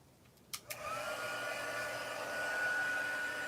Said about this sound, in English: Turn on my heat gun. Give it some warmth.